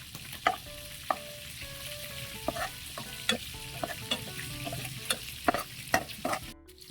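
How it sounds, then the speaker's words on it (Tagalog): Garlic and onion sautéing in a pan, with a soft continuous sizzle punctuated by sharp utensil taps and scrapes every half second or so, close up with no voices. "Sunod, gigisa tayo. Lagay tayo ng bawang saka sibuyas."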